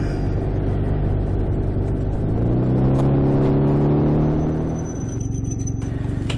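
Motorbikes passing on a road, heard over the steady rumble of a trike: engine tones rise and sweep by in the middle, then the drone settles back to an even hum.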